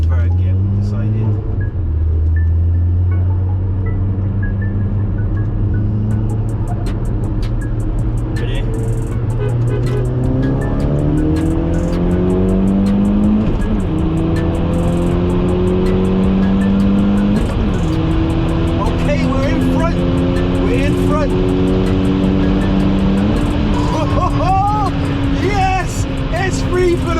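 An Audi S3 pulling hard from third gear in a roll race, engine note climbing steadily through the revs with several upshifts, loud and close from inside the car, with people talking over it.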